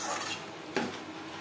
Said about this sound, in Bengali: মশলার সাথে মাংস কষাবো লো টু মিডিয়াম ফ্লেমে